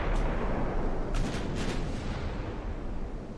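Naval guns fire in the warship game Ultimate Admiral: Dreadnoughts, a dense rumble of booming blasts with a few sharper cracks close together early on, then the roar fades off.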